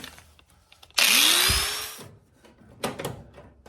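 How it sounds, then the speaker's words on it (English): A grinder removes rust from a 1972 VW Super Beetle body in a short loud burst of about one second, its pitch dropping as it winds down, followed by a brief grinding touch. "Do it with the grinder."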